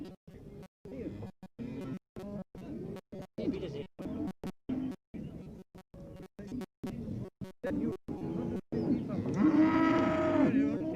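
Cattle at an Irish country fair day in the 1970s, lowing repeatedly through an ongoing narration, with a louder, drawn-out moo rising clearly near the end.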